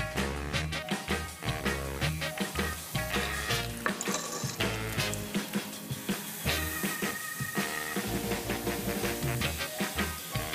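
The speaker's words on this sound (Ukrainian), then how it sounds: "Розігрів пательню з олією і тепер вперед смажити." Continuous crackling sizzle of coffee pancake batter frying in a hot oiled pan, with scattered pops and some clinks of utensils against the pan.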